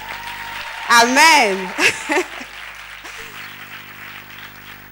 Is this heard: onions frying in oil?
no